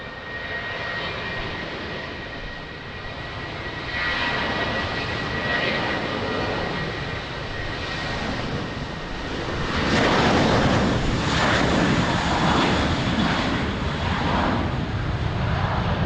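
A Ryanair airliner's jet engines roar on the runway at Lisbon Airport during takeoff, a loud steady rush that swells stronger about two-thirds of the way through, with no voices.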